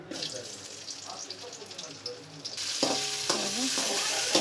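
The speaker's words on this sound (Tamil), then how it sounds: "ஆயில் நல்லா சூடாக இருந்தால் கொஞ்சம் வெண்டைக்காவை இதிலே எண்ணெயில் வறுத்துக்கலாம்" Okra (vendakkai) frying in hot oil: a soft sizzle with stirring in the first half, then louder hissing joined by clattering and a running tap, all close by.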